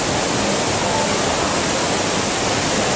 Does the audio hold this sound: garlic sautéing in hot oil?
no